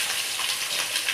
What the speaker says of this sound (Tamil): அப்புறம் வந்து வெங்காயத்தை கொட்டிக்கலாம்.